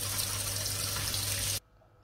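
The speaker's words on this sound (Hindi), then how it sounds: "अब ये देखें, आपके सामने मैंने ये करेले धो लिए।" Water runs steadily from a tap while bitter gourds (karela) are rubbed and washed by hand in a kitchen sink, a continuous rushing flow that cuts off abruptly near the end.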